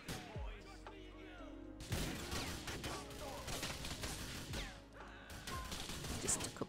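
Grenade blasts in GTA 4 go off as heavy booming crashes with scattered debris and clatter, about two big bursts a few seconds apart amid chaotic street noise.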